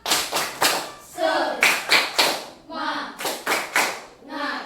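A school class claps in rhythmic bursts as an icebreaker cheer, several sharp group claps per phrase with short pauses between, while voices chant along.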